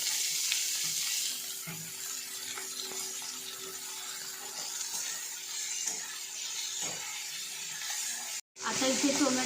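Tomatoes added to browned onion fry in a pan for a ridge gourd curry, a steady soft sizzle with faint stirring scrapes and a brief cut near the end.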